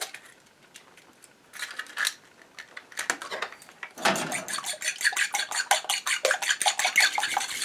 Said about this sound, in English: First, I'm going to beat up a couple of eggs here.